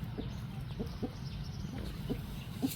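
Shamo chickens on a farm clucking softly in short separate calls against a steady low background hum, a handful of clucks spread over a few seconds, moderately near.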